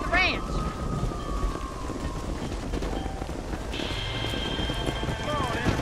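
Steady rain hiss fills a Red Dead Redemption scene, joined by horse hoof clip-clops and talking voices throughout.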